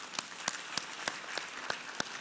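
Sparse, slow clapping in a church service, a few distinct sharp claps spaced about a third of a second apart over a faint background.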